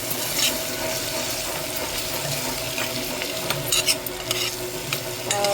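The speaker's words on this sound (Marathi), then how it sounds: "आता छान असं आपल्याला हे काजू सगळे ह्यात परतून घ्यायचे आहेत." Cashews being sautéed in a pan sizzle steadily up close while a spoon repeatedly scrapes and stirs them, with faint hum from the surroundings underneath.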